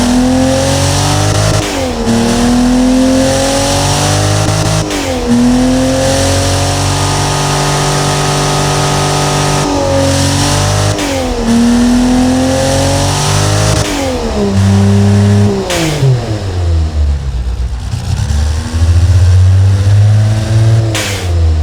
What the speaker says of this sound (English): Are you ready to hear the power of this engine